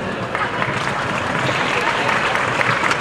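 Audience applauding loudly and steadily at a women's Final Four sports event, dense continuous clapping with some crowd noise mixed in throughout.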